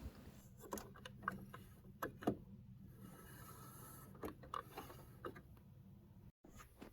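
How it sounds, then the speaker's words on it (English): A Brother inkjet printer's print head is slid back and forth by hand, giving faint, sparse mechanical clicks and plasticky creaks in short irregular bursts over quiet background hiss. "The print head should be able to move back and forward like this"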